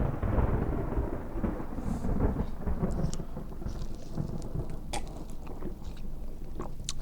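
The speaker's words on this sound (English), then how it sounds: "Storms are coming." Rolling thunder with steady heavy rain in the Sunrider 4 video game, a dense continuous roar with several crackling strikes, loud and without speech.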